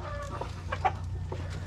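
A hen that wants to lay an egg gives a few soft, close clucks in quick succession over a low background hum, brief and moderately quiet.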